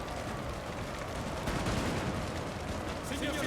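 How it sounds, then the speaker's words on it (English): Grenadiers firing muskets in Napoleon Total War, a dense, continuous crackle of massed gunfire blending into a dull roar of battle, with a heavier burst midway and a voice speaking faintly underneath. "The Grenadiers firing this."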